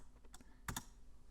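A few keystrokes on a computer keyboard, heard as soft, close clicks with one quick double tap standing out, followed by quiet and no voices.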